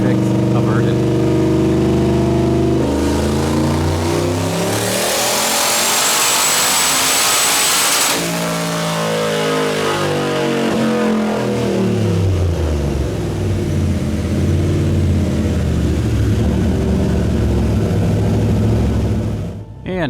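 A turbocharged LS-swapped Volvo wagon engine roars loudly and steadily on a dyno, with engine pitch climbing in harmonics, briefly flaring, then sweeping back down as the pull ends.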